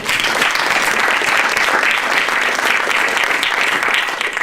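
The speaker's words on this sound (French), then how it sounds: "On peut l'applaudir chaleureusement." Warm, dense applause from an audience at an awards ceremony for a business takeover contest, a steady loud wash of many hands that holds throughout.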